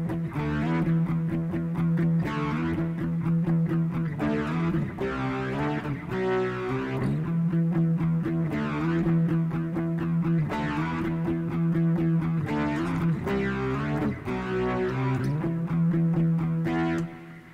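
An electric guitar plays chords through the Rakarrack software overdrive distortion effect on Arch Linux, giving a continuous, gritty, sustained tone with rhythmic chord changes and no talking.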